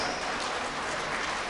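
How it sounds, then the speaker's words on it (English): An audience at a corporate meeting applauds, a dense continuous wash of many hands clapping at moderate distance, steady throughout the short stretch with no speech. "So give yourself a loud applause"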